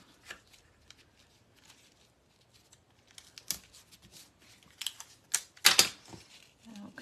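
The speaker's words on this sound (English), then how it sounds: "Grab some scotch tape." Scotch tape is pulled from its roll and torn off during card making, with a few sharp ripping bursts that cluster toward the end after quieter handling rustles.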